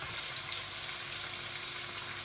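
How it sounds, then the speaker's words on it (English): Chicken sears in a hot pan, giving a steady, dense sizzle that holds at one level throughout with no talking. "We're just wanting to sear it."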